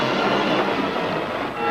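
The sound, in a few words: train sound from a western movie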